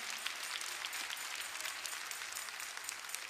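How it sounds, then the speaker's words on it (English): A church congregation at a Church of God in Christ service claps and applauds, a dense, steady wash of many hands sustained throughout at moderate distance, with no speech over it. "clap your hands and give praise to God"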